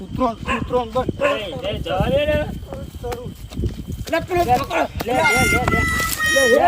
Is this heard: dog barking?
yes